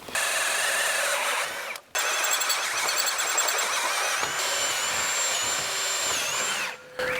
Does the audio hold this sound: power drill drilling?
yes